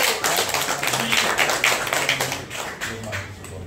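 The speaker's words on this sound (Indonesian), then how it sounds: "Tepuk tangan ini." A crowd claps together in a dense, continuous burst of many hands at a public gathering over a canceled 250% PBB property tax increase, steady and close for the whole stretch.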